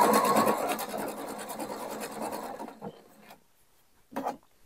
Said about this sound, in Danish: så jeg syr simpelthen små bidder i gangen